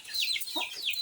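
Chickens clucking close by on a rainy early morning, a quick run of sharp, high clucks repeating in a fast rhythm, loud and clear with no talk.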